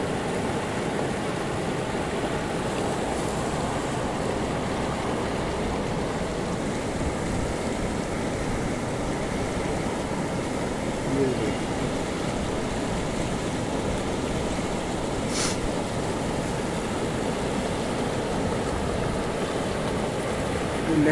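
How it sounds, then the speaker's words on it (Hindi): Steady rushing murmur of the Beas mountain river flowing in Kullu valley, continuous and even throughout, with no other prominent sounds. "बांस नदी की जो कलकल, पानी की कलकल है, इसे सुनिएगा।"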